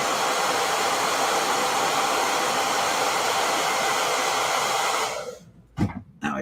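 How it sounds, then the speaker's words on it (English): A handheld blow dryer runs loud and steady at close range for about five seconds, a constant airy roar that then cuts off, followed by a few quiet handling knocks. "I hit this with a blow dryer."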